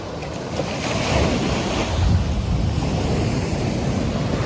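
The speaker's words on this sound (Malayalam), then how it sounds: "കടൽ നല്ല രീതിയിൽ കയറി കയറി വരുന്നുണ്ട്" Ocean waves roll and surge continuously, close and loud, with a roaring wash and wind buffeting the microphone.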